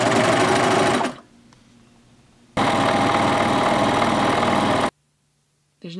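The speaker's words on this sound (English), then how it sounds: "So I'm going to sew these 2 pieces and then sew these 2 pieces" A serger sews quilt fabric pieces together, its fast, loud mechanical chatter running in two bursts of about a second and two seconds, separated by a quiet pause.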